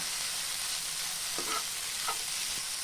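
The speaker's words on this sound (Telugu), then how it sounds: "ఈ రెండు బాగా కలిసేటట్టు చేసుకుని బాగా వేయించుకోవాలి" Onion pieces fry with egg and potato in a pan, giving a soft, steady sizzle with a few light stirring scrapes and taps, faint and without voices.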